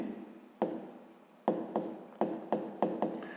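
Pen on paper writing out a fifth-grade math solution: soft continuous scratching broken by several sharp taps as strokes begin, close and quiet, with no talk.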